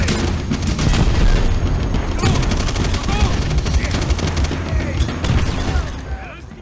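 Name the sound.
grenade explosions in video game Call of Duty: World at War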